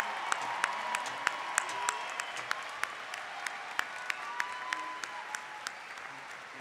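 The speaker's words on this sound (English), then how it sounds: "let's give our graduates one final round of applause." Audience at a university fall commencement applauds the graduates, a steady wash of clapping heard from a distance with a few sharper individual claps standing out at fairly even intervals.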